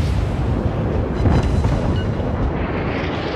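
A cruiser in the naval combat game World of Warships takes a massive broadside from a battleship, heard as a loud, dense rumbling barrage of impacts and blasts that swells near the middle and slowly fades.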